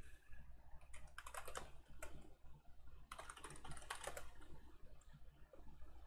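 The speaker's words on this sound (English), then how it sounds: "open a command line terminal and just type in sudo apt install BleachBit" Keys clatter on a computer keyboard as a terminal install command for BleachBit is typed on Linux Mint, in quick bursts of clicks separated by short pauses over a steady low hum.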